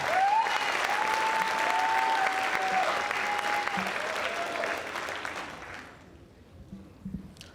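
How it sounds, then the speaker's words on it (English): At a school district convocation, the audience gives a sustained round of applause for teachers, administrators and staff. It holds strong for about six seconds with a faint tonal whine over it, then fades to scattered claps. "give you a round of applause to our dedicated teachers, administrators, and staff"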